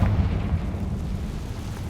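The Confringo spell in the Hogwarts Legacy video game goes off as a loud, deep, rumbling explosive blast that holds heavy low-end roar through its short length.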